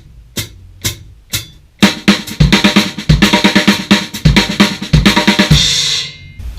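A drum lick in a right, left, left, kick pattern, played at full tempo as a dense, loud run of snare and tom strokes with kick drum hits and cymbal wash, repeating steadily without pause.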